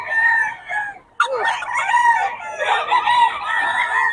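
A rooster crows loudly and close at a large chicken farm, two long drawn-out calls with a brief pause between, over faint farm background.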